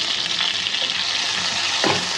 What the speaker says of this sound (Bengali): কালি জিরে ডালমু হালকা করে ভাজবো